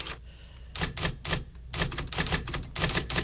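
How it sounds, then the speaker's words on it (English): Typing on a Hanx Writer app emulating an IBM Selectric electric typewriter produces close, crisp keystrokes in uneven bursts, with short pauses between clusters of clacks. "this is exactly what the Selectric sounds like"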